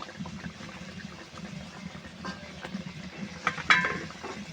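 Koi fish frying in cooked-down spice paste, a faint, low bubbling sizzle with soft stirring and a brief sharper spatter near the end.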